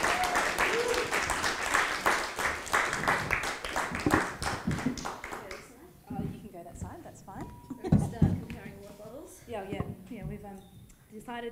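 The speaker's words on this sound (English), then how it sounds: "Please welcome Katy and Kelly to the stage with a warm round of applause." At a music industry keynote, an audience claps warmly as speakers are welcomed to the stage. The applause is dense for about five seconds, then fades as voices begin talking over scattered claps.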